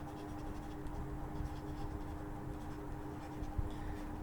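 A pen scratches across paper, writing out an equation in a short run of soft, close scribbling strokes.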